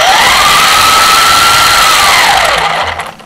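Small electric RC car motor spinning up under light throttle with a poorly set pinion-spur gear mesh, giving a loud, steady whine that rises, holds for about two seconds, then falls away and fades out, with no talking.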